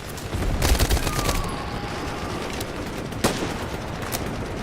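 Bursts of video game gunfire from a squad shooter crackle over a steady background din, with a dense volley early on and a few sharper isolated shots later.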